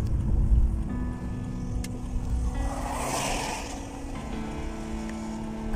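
A car drives onward along a road near Lake Ladoga, its low engine and tyre rumble steady and moderately loud, with a brief swell of passing noise in the middle.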